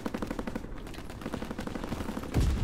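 Rapid automatic gunfire from a new gun in the Call of Duty WWII multiplayer game, a fast run of evenly spaced shots, close and loud, ending in a heavier burst.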